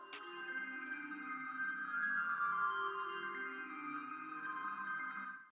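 Atmosphere synth layer from a dark horror melody arrangement: a sustained, airy pad with steady harmonic tones, sounding alone at an even loudness for several seconds before cutting off.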